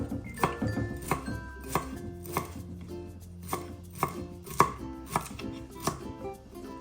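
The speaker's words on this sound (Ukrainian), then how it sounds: "ріжемо кріп. Ми його січимо дуже швиденько." Fresh dill being chopped rapidly with a knife on a cutting board, a brisk series of sharp, evenly spaced thunks close by with light rattling between strikes.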